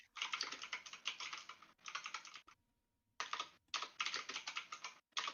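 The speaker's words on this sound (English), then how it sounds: "I'm a fan of the mechanical keyboard" Bursts of rapid typing on a mechanical keyboard, with crisp clustered key clacks close up and short pauses between runs, no voices.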